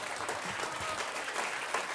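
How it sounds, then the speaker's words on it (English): Audience applause at a Climate Week NYC conversation event, steady dense clapping from a crowd filling the room at an even level throughout. "These men deserve a round of applause for everything they're doing"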